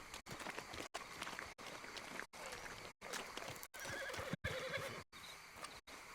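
A horse in Red Dead Redemption 2 whinnies with a drawn-out neigh, and hooves clop steadily beneath it. Short breaks of silence cut the sound at intervals.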